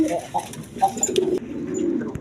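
Breeding pairs of pigeons coo softly in low, rolling calls close by, several short murmurs overlapping with faint background noise and a few light clicks.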